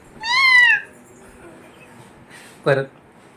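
A child imitates a cat's meow, a clear, close, rising-falling meow followed after a pause by a second, shorter call.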